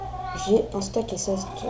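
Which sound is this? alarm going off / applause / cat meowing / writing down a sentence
cat meowing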